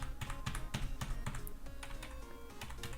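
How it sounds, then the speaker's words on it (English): Computer keyboard keys clatter in rapid, steady taps, close and fairly loud, with a continuous run of clicks throughout. "I'm just clicking very loudly so you can hear I'm moving."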